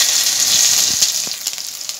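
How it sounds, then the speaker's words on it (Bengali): Ginger paste frying in hot oil with whole cumin, mustard seeds and dried chilli, a steady close sizzle with a few soft crackles and pops, no talking. "আদাটা একটু আমি ভেজে নিচ্ছি।"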